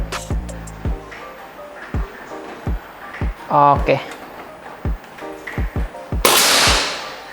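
Five shots from an SR Stainless Series air rifle at an outdoor range come as sharp, separate cracks spaced through the clip, each followed by a short ring, with voices talking in between.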